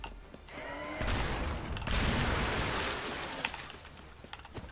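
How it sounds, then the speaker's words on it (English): Slaughter shotgun blasts in Earth Defense Force 5, a loud burst of overlapping gunfire that swells around the one-second mark and rolls on as a dense roar, then thins into scattered cracks near the end. "slaughter shotgun too powerful"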